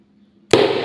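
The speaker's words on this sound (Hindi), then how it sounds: "आप देख सकते हो हमारी बंदूक किस तरह काम कर रही है।" A homemade pen gun fires with one sharp, loud close pop after near silence, followed by a brief noisy tail.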